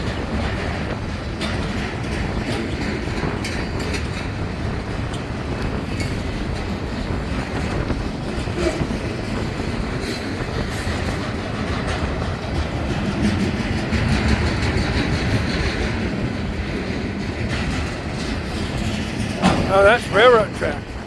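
A long BNSF freight train in Colorado hauling lumber and steel rolls past close by, a steady rumble with rhythmic wheel clacks throughout and a brief squeal near the end.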